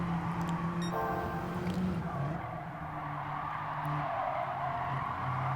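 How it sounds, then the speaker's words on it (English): Car tires squeal and slide during a Gran Turismo 7 race at Brands Hatch, a sustained skidding whine over engine roar, with a faint tonal note in the mix. "Lots of tire sliding."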